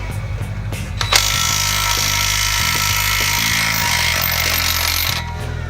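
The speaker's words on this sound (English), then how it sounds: "Put the impact wrench again." An impact wrench works on the bottom strut bolt during a coilover install on a Mitsubishi Evo X. After a short start it runs as a loud, continuous rattling hammer for about four seconds, close and with no voices.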